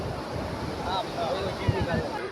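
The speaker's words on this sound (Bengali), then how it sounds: "সেই ঢেউ আছে, সেই ঢেউ।" Sea waves wash onto Digha beach in a continuous surf rush, with wind buffeting the microphone and a few brief thumps along the way.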